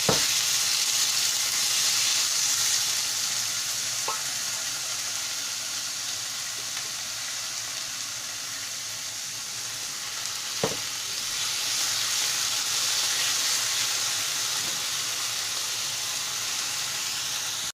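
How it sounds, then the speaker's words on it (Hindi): Boiled saag greens are fried in hot oil, giving a constant hissing sizzle from start to end, broken by a couple of sharp utensil knocks against the pan; no talking. "और साथ ही अब हम डालेंगे इसमें साग।"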